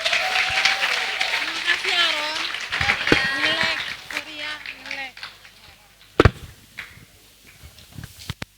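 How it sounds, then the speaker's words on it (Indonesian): Audience applause for forestry students at a university orientation event, dense clapping under cheering voices and shouts that fades out after a few seconds, leaving scattered claps and noise. "Berikan tepuk tangan sekali lagi untuk mahasiswa penyayang flora dan fauna Mapolova"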